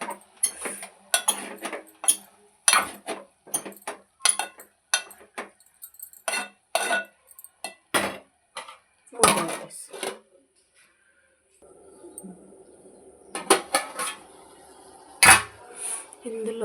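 A spoon stirs tomatoes and beans in a cooking pan for a green chili curry, giving a run of sharp clinks and scrapes against the metal, a brief pause, then more stirring, close up.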